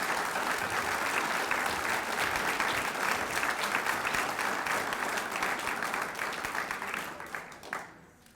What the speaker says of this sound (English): Let's give another round of applause to Darlene and all the award recipients